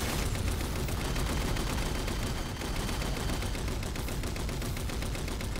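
Turrets firing in the Halo 4 video game, heard as a dense, continuous barrage of rapid gunfire that stays loud and unbroken from start to end, with no talk.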